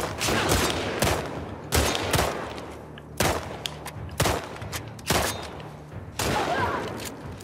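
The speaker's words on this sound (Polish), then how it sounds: "No, i teraz się pobawimy w strzelanie." Bursts of rapid gunfire from The Last of Us Part II, several volleys separated by short pauses, loud and close with rumbling low-end thumps.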